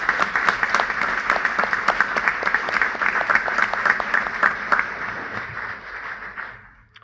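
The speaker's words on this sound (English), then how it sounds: "I would like to offer you a round of applause as well." An audience at a school district board of education meeting gives a round of applause. The clapping is crisp and sustained for about five seconds, then fades away to quiet.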